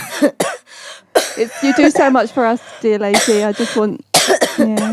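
A person coughs several times with some throat clearing, close and loud, mixed in with nearby speech.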